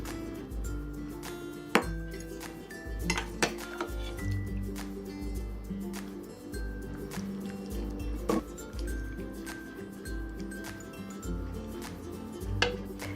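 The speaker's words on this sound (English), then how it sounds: "So let's serve up a bowl." Lotus root soup with spare ribs ladled into a bowl, heard as soft liquid sloshes broken by scattered clinks of a ladle against the pot and bowl, close up and fairly quiet with no talking.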